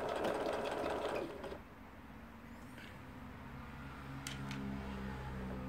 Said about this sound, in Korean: 다시 바느질, 네, 후진 바느질 정상작동 되고요